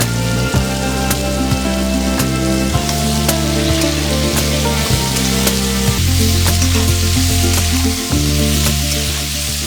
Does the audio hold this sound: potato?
yes